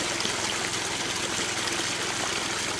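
Water pours steadily from one pond into a new pond, a dense, continuous rushing flow that is close, even and unbroken, with no voices.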